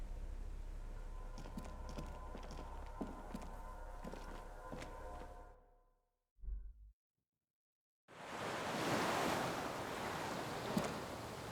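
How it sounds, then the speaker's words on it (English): Wind in the Disco Elysium video game, a steady breathy gust that falls silent, then surges back louder and rushing like surf, with faint ticking sounds under the first stretch. "The wind picks up,"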